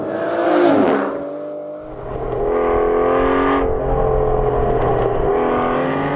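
V12 engine of a sports car revving and pulling through the gears, as in a Ferrari F12, Lamborghini Aventador or Aston Martin Vanquish, a loud close whine with rising pitch sweeps and a brief dip between pulls.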